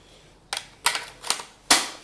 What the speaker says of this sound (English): and the mag goes in.